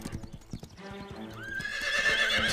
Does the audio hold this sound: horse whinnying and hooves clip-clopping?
yes